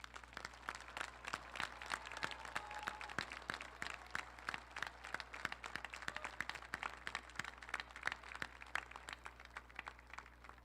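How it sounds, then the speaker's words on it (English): An audience at a university commencement ceremony applauds steadily, a dense stretch of many hands clapping that sounds somewhat distant and faint and lasts the whole time. "express your most heartfelt appreciation with a round of applause to thank these special people for their support."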